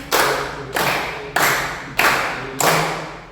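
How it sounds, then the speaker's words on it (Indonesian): Hand claps struck in a slow counted pattern as part of a classroom positive-culture activity, five sharp, loud claps spaced evenly about two-thirds of a second apart, each ringing briefly in the room, with no talking. "Tepuk 1 kali, tepuk 2 kali, tepuk 3 kali, tepuk 5 kali"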